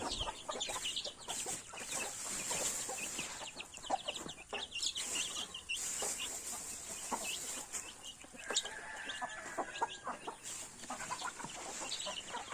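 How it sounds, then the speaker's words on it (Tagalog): Chickens cluck repeatedly at close range, with scattered squawks and a busy outdoor farmyard background. "parami ng parami ang ating mga alaga. Manok."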